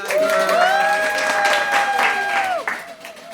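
An audience applauds for Tommy the Tiger at a puppet show, a burst of dense clapping with a sustained whistle or cheer over it, fading near the end.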